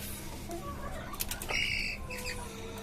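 Brief bursts of wings flapping against a steady low hum, with a few soft clucks from desi and Tiger breed chickens kept in cages on a rooftop farm.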